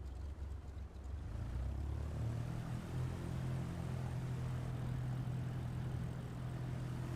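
Aircraft taxiing down the runway to make a U-turn in Microsoft Flight Simulator 2024, a steady droning engine hum, continuous and fairly even, with no talk.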